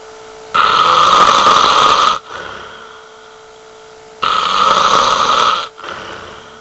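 A man undergoing an overnight sleep study snores heavily, two long rasping snores separated by a quieter pause, loud and close with no talk.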